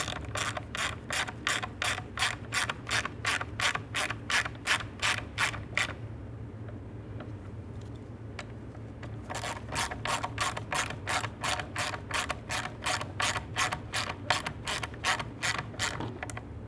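Rapid ratcheting clicks from a ratchet wrench snugging up the intake manifold mounting bolts into plastic on a 2012–2018 Nissan Altima 2.5L four-cylinder, close and steady in two long bursts separated by a brief pause.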